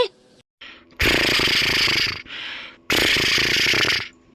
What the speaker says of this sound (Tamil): இந்த மூதேவி கொரட்டை சத்த வேற தூக்க வர மாட்டேங்குது.